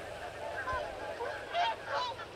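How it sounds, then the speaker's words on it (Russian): Flocks of migrating birds call in the Astrakhan nature reserve river delta, several honking, goose-like cries rising and falling over a soft outdoor background. "Каждый день прибывают все новые и новые караваны птиц."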